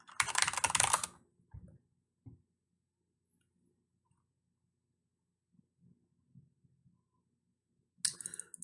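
Computer keyboard keys clatter in a quick, close burst as a password is typed, followed by a few isolated taps and soft clicks, then a final short flurry of typing after a near-silent gap.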